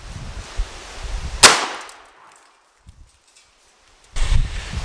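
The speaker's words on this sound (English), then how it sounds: "I got 2 more in the gun. We're going to let Nate shoot it" A shotgun loaded with number 4 steel shot fires once at a bowling ball outdoors, a single sharp loud blast whose rumbling tail fades into quiet before a burst of fresh noise at the end.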